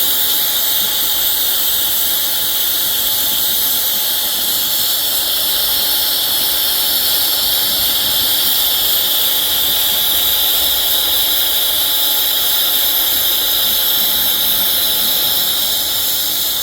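TIG welding of stainless steel bridging a very wide gap, producing a steady, loud high-pitched hiss and buzz of the arc that runs unbroken and close up, with no talking.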